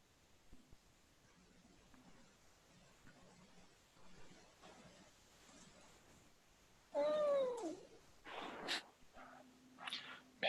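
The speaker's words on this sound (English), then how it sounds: "That was a cat." A cat meows loudly and close by with a rising, drawn-out cry, followed by a few shorter meows against quiet room tone.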